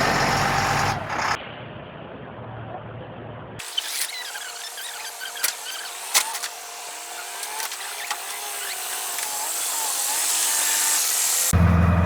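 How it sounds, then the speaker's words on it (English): A hydraulic loader works on a cabin construction site, a steady, loud mechanical drone with hydraulic whine and occasional metallic clanks and knocks, heard up close with no talking. "Wow, we just got a new loader here."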